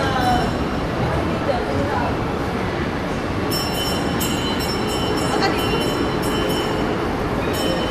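A train passes close by with a loud, steady rumble and metallic rail noise, joined later by high squealing and ringing tones, with faint voices underneath.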